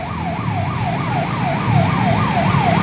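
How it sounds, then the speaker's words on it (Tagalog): A fire truck siren wails in a steady up-and-down pattern, loud and close, over low rumbling road and engine noise, arriving at a scene where a Suzuki Gixxer motorcycle is on fire. "Dumating yung fire truck."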